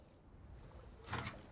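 Fuel being poured into a boat in the Resident Evil 4 Remake video game: a soft, brief liquid slosh and trickle, faint and close, rising for a moment near the end.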